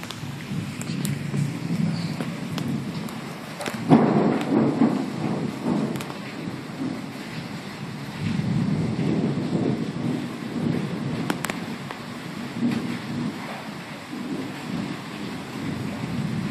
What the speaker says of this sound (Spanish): Como que los truenos generan una vibración